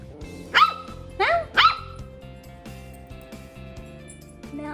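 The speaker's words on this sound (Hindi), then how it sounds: "क्यों भौंक रही?" A dog gives three sharp, loud barks close by in quick succession, then the scene settles into quieter household background sound.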